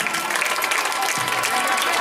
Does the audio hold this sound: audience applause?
yes